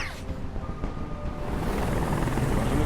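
Helicopter in the video game Detroit: Become Human, a steady rotor drone and whir that grows slightly louder and fuller over a few seconds, continuous with no speech.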